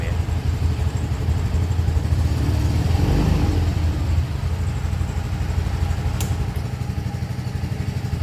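A scooter engine, a Yamaha FreeGo S Connected 125 or Honda Beat, runs steadily nearby with a low throbbing drone, while someone talks over it throughout.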